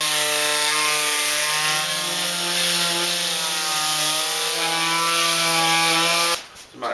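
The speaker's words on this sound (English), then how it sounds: "I'm going to sand these down and try to sand the stain or weather or whatever this is off of them." A power sander works steadily over weathered scrap wood boards, giving a continuous close, loud whine with a humming pitch that shifts slightly, then cuts off abruptly near the end.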